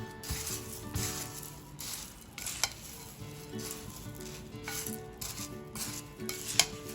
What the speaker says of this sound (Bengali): এবার আমি এটাকে ভালো করে মিক্স করে নেব